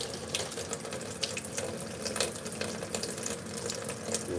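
Water runs steadily from a kitchen tap into a sink while baking, a close, continuous hiss and splash with no talk over it.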